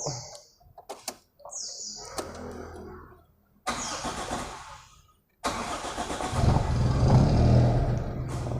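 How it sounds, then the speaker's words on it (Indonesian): A Daihatsu Charade Classy/Winner car engine cranks briefly, then catches and starts, settling into a steady, smooth idle close by. "Nah ini suaranya masih halus mesinnya teman-teman."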